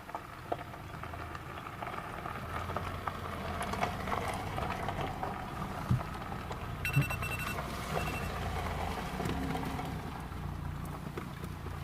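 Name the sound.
rain falling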